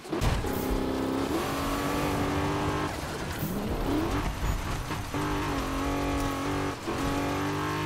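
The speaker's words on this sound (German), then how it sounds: "Klang finde ich übrigens geil von der Karre." Car engine in Need for Speed (2015) on Xbox One, revving hard through repeated gear shifts, with rising and falling engine pitch, some tire squeal, loud and continuous.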